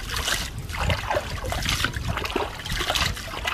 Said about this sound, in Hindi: मछली काटना हो चुका है अब हम इसे अच्छी पानी से धो लेते हैं